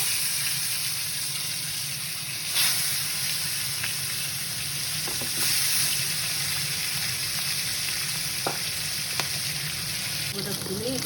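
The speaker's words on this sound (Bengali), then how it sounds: "তেলটা একটু গরম হোক, ঠিক আছে, নুন হলুদ মাখা মাছটাকে একটু ফ্রাই করবো।" Fish coated in salt and turmeric fries in hot oil, giving a steady crackling sizzle throughout with a few brief clicks and stirring noises, moderately close and fairly quiet.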